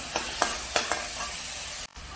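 Chopped tomatoes and onions sautéing in a pan, steady sizzling broken by several quick spatula stirs and a brief knock near the end, no speech.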